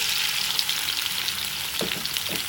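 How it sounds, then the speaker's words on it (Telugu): Chopped tomatoes frying in hot oil in a pan for a mint and tomato chutney, a steady close bright sizzle with a couple of soft stirring scrapes near the end. "ఆయిల్ వేడయ్యాక 4-5 టమాటాలని ఇలా ముక్కలు కోసి వేసుకోండి."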